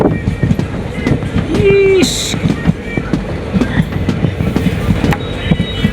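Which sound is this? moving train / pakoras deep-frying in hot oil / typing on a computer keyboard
moving train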